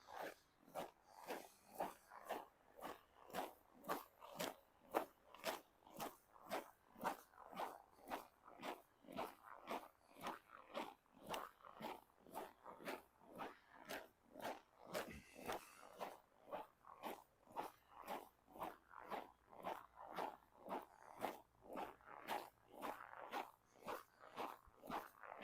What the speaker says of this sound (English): That gives you that nice crunchy snow sound in the background here as I walk.